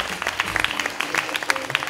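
Scattered clapping from a small crowd at a hair salon event, individual claps popping irregularly over a low murmur.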